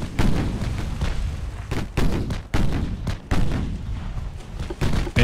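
A torpedo salvo from a quintuple launcher on a warship in the naval game Ultimate Admiral Dreadnoughts, heard as loud booming discharges with heavy low rumble and several sharp repeated reports over continuous battle noise.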